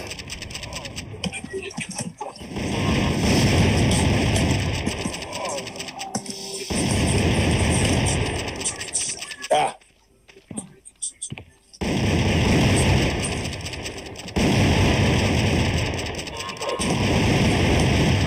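Dynamite explosions and gunfire in a deathmatch on the Bankrupt map of the LucasArts video game Outlaws, heavy repeated blasts and shots in loud bursts separated by short quieter gaps, with a voice speaking during the action.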